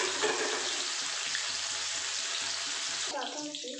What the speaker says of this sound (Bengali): আমি পনিরগুলোকে ভেজে নেব